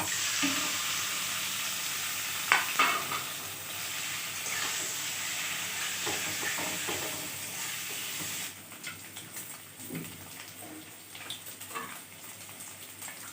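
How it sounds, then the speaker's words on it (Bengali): Paneer fries in oil, a soft hissing sizzle at close range, fairly quiet, with a few clinks and knocks from stirring; it grows quieter toward the end and no one speaks. "পনিরটা ভাজা হয়ে গেছে, তুলে নিব।"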